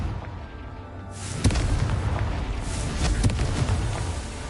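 A fire-spell explosion in the Hogwarts Legacy video game bursts with a loud boom, then rumbles on with further blasts and crackling bangs.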